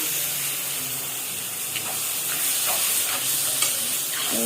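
Ground tomato paste hits golden fried onions in a hot pan for a fish curry, giving a loud, continuous close sizzle and hiss with faint scraping from stirring and no speech.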